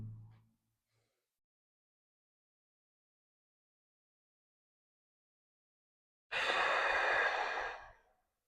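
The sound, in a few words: breathing in through nose, out through mouth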